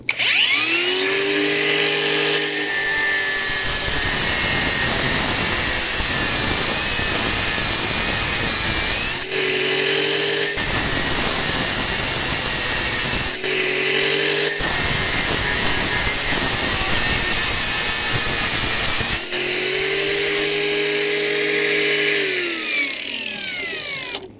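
A power tool cuts through material during demolition of a structure, loud and continuous with engine-like whine, several brief pauses and a winding-down pitch at restarts, no voices.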